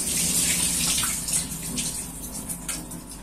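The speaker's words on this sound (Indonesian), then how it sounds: "Dan kita cuci dengan menggunakan air mengalir lagi" Running tap water rinsing aloe vera pieces after soaking in lime and salt water: a loud, continuous gushing splash into a basin, steady throughout with small fluctuations and no talk.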